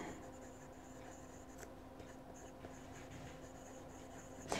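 Fountain pen loaded with Waterman Tender Purple ink scratching softly across smooth Clairefontaine notebook paper, a faint, steady writing hiss with small stroke ticks, close and quiet, ending in a sharper tap.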